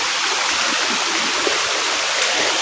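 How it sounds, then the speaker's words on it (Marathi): Water rushes steadily down a village field channel, a close, loud continuous gushing with a broad, even wash of sound and no pauses. "इथून सगळे पाणी चाललंय कासऱ्याचं"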